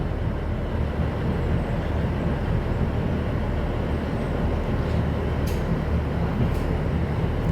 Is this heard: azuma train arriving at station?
yes